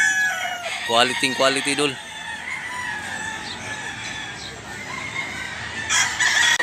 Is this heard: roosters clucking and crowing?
yes